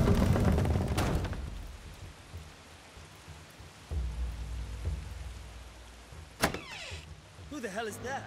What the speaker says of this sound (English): You can feel the rain in the controller, man.